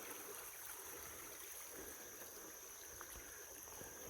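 Water runs in a small creek in the Carolina hills, a steady broadband rush and trickle that stays constant and fairly faint throughout, with no voices.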